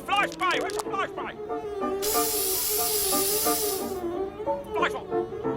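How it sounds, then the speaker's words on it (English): An insect spray can hisses loudly for about two seconds while excited voices shout and talk over and around it. "Get fly spray! Where's the fly spray?"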